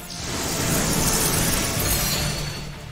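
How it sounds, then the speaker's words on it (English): Icy Wind attack in a Pokémon video game, a loud sustained rushing, shattering burst of icy noise that swells and fades over about three seconds. "Another icy wind will do it."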